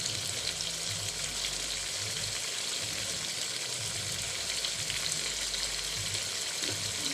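Cow tripe (bhuri) frying in oil gives a steady, dense crackle and sizzle throughout, close and continuous with no talking.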